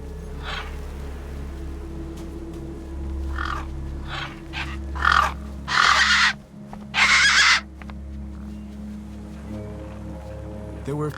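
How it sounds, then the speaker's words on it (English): Crows in the video game Beyond a Steel Sky cawing over a corpse, several harsh caws in bursts, some louder and closer, over a low steady ambient hum. "The gang birds were eyeing up the corpse hungrily."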